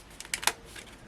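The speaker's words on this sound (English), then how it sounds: "So let's just trim those edges off." A card's edges being trimmed during cardmaking: a few quiet, sharp cutting clicks close together, then a faint softer snip, with no talking.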